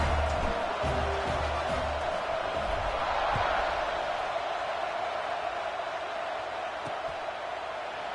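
Stadium crowd noise in an NCAA college football video game at kickoff, South Georgia versus Syracuse, a steady broad roar of cheering that holds loud and even throughout, with no one speaking over it.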